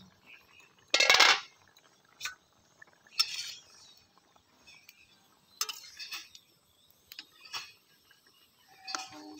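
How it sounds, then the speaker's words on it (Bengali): A metal lid lifted off a cooking pot of kuche fish curry with potatoes: one loud clinking clatter near the start, followed by scattered lighter clinks and taps of utensils, close and quiet overall. "কিছুক্ষণ জাল করার পর এবার আমি ঢাকনাটা তুলে নিচ্ছি।"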